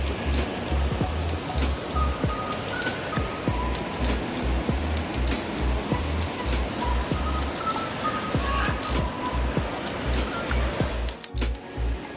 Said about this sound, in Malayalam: ലക്കം വെള്ളച്ചാട്ടത്തിന് തൊട്ട് മുന്നേ ഉള്ളൊരു അമ്പലവും അതുപോലെ ചെറിയൊരു വെള്ളച്ചാട്ടമുണ്ട്